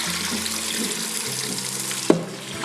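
Tap water runs steadily into a sink as rice is rinsed under it, with a brief clatter near the end and no talk.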